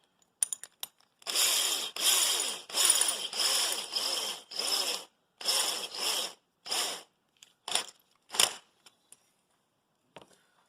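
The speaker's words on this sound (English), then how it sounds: "what I'm using here is just a unibit, it's a step bit, and I have to open the hole all the way." A step bit in a drill opens up a hole to about half an inch for 3D printer cable routing, heard as a series of short, harsh grinding bursts in a steady stop-start rhythm, close and fairly loud, then a few scattered clicks.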